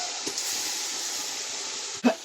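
Tamarind rasam boiling in a pot gives off a steady, even hiss of bubbling and steam, with a soft knock early on and a brief louder clunk near the end.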